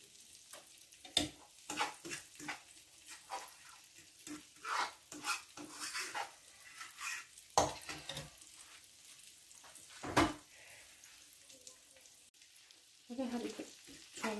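Chopped herbs tossed into a frying pan for butter lemon salmon, with a soft sizzle under repeated sharp clatters of a utensil stirring against the pan, close and uneven in rhythm.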